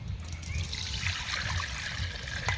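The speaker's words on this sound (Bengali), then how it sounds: "জল দিতে হবে কড়াইয়ে।" Water is poured into a wok to boil cauliflower, a short steady trickle and splash running continuously at moderate volume.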